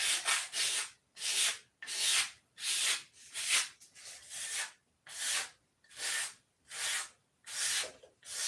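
Hand sanding of wood with sandpaper, a steady series of about a dozen rhythmic rasping strokes, close and fairly loud, each stroke a bright scratchy swish separated by short pauses, with no talking.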